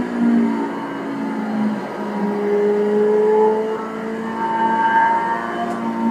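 Car driven around a track with the steering wheel turned using only one thumb, its engine humming and revving steadily at a moderate, close level throughout, with no talk.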